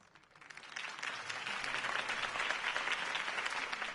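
An audience applauds after a campaign speech, the clapping swelling from quiet to a full, dense roar of many hands within the first second and then holding steady.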